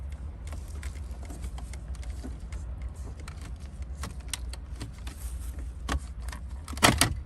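An AC control unit being pulled from the dashboard of a 2013-2019 Audi A1/Q3 during a CarPlay retrofit, heard as scattered close plastic clicks and rattles over a low cabin hum, ending in a louder snapping pop.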